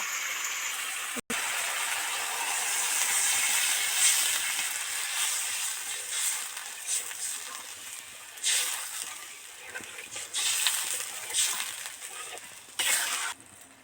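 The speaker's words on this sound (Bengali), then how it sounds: "এবার জল দিয়ে দেব" Water poured into a pan of hot potato curry, with a loud, sustained hiss of steam that swells and fades in bursts, close up and without talking.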